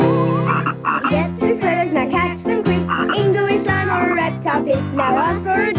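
Frogs croak under a children's jingle with bouncy repeating notes in a Pizza Hut commercial, the croaks loud and rhythmic, blended with the music throughout.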